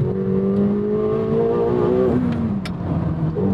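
A 2024 McLaren 750S engine drones loudly and steadily as the car accelerates toward its 8,500 RPM red line, the pitch holding and then dropping briefly as it shifts, with no talking.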